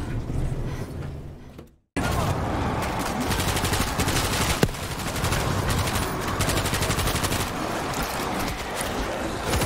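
Rapid automatic gunfire from a turret in a zombie-killing video game, a dense, continuous rattle of shots after a brief silent gap near the start, loud and steady throughout with no talking.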